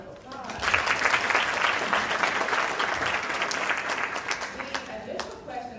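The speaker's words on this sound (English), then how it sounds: "So if you would give them a round of applause." Audience applause at an HBCU pre-law law student panel, a dense burst of many hands clapping that swells quickly, holds steady, then gradually thins toward the end.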